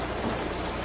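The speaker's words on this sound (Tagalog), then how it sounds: "anong itsura ng ulan ngayon habang bumabagsak?" Steady rain falling in a quiet, continuous wash of noise, with no voices and no distinct drops standing out over the short stretch.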